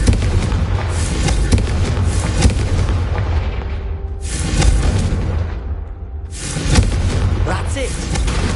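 Fiery Confringo spell blasts in Hogwarts Legacy, a sequence of loud booming bursts with crackling fiery tails, three or so strong impacts across the stretch, with voices speaking between them amid game ambience.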